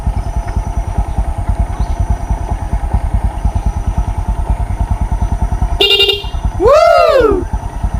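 A dual contact horn wired through an interrupter relay sounds on a motorcycle, two short loud honks near the end over the steady putter of an idling engine, with no talk.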